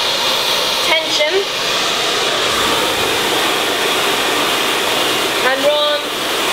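A hair dryer blows steadily and loudly throughout while hair is brushed and smoothed in sections during a salon-style blow-dry, with brief brush and nozzle movements around the one-second and five-and-a-half-second marks.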